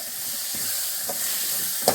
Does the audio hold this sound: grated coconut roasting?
yes